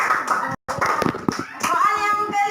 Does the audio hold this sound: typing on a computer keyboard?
no